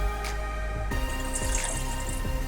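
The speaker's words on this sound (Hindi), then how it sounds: "इसके अंदर पहले हम पानी ऐड करते हैं" Water runs steadily from a tap into a pan on a stove to start a sugar syrup for sweet bread, a close, continuous splashing stream with no talking.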